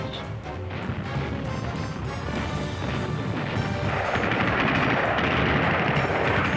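Artillery and gunfire pound Berlin in spring 1945, a dense, continuous barrage of crashing blasts and rattling shots that keeps building and stays loud, with no voices.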